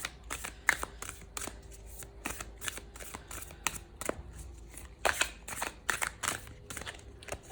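Oracle cards being shuffled by hand before a draw, a steady run of crisp riffling flicks and papery slaps, close and continuous for several seconds with no talking.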